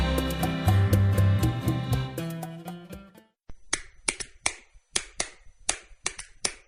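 Sharp hand claps from a novelty Fan Hands sports-fan clapper toy, about eight distinct snaps in an uneven rhythm, close and loud, following a burst of music that cuts off.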